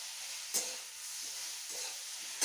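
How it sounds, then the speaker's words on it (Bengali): Steady sizzling hiss of potatoes frying in a pan, with a few brief clinks or stirring scrapes standing out near the start and end. "আলু উচ্ছে কুমড়ো আর আলু ভাজা করছি"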